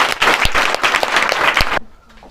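An audience at a student honoring ceremony for 12th-grade students bursts into loud, dense applause that cuts off abruptly near the end, leaving a quiet room with faint sounds.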